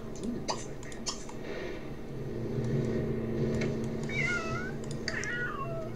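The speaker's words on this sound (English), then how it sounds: "Why are you meowing, kitty?" A pet cat in The Sims 3 Pets game meows a few times, short rising calls over a steady low game hum, fairly quiet, with no speech.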